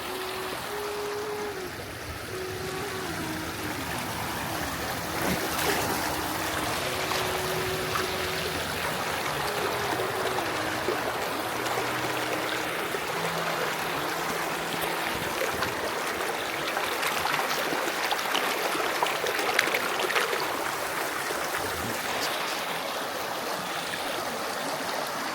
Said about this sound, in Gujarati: ત્યાંથી એક ઝરણું જાય નદીનું, એ તમને દેખાડા બધા ને